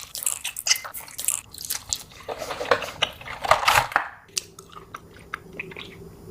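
Biting and chewing on giant gummy candies, a gummy eyeball, a giant gusher and a giant spicy gummy bear, with close, wet crunches and squishes in irregular bursts, louder mid-clip, then quieter chews.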